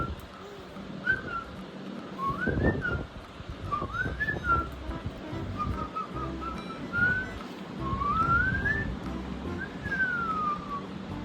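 A woman whistles to her dogs indoors: a series of short, clear melodic whistles, rising and falling and spaced a second or two apart, over a faint room hum.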